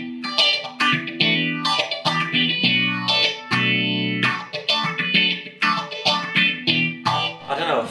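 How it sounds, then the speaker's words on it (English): An electric guitar played through a PhazeX phaser pedal gives swirling, sweeping chords and picked phrases, loud and close, with a bright, distorted edge throughout. "a phaser, I always think it should sound like some sort of like a chipmunk eating nuts"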